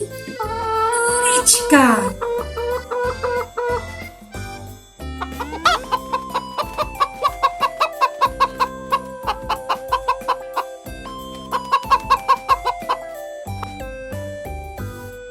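A hen clucks in a rapid, repeated series of short calls, close and clear, with a brief squawk near the start.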